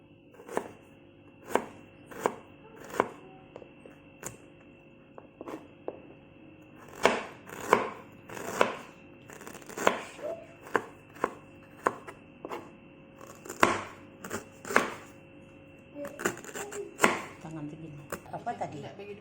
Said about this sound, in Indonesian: Kita iris jahe, lengkuas untuk alasnya juga.